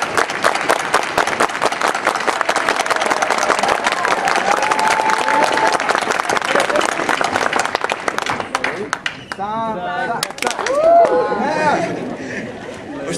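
A class of students performs the unity clap together as a show of solidarity: dense group clapping and crowd noise that continues for several seconds, then gives way to loud talking and chatter near the end.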